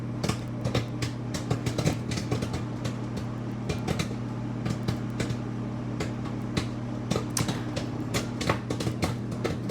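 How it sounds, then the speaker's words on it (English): Microwave popcorn pops inside its bag in a running oven, giving many sharp, irregular pops in quick succession over a steady low hum. "It's still popping quite a bit."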